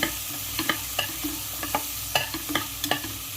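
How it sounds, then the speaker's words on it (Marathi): Spices dry-roasting in a pan over a medium gas flame, with a soft continuous sizzle broken by regular scraping strokes of a spoon stirring, close and clear with no voices. "गॅस मीडियम फ्लेमवर घेऊनच हे सगळं भाजायचं आहे."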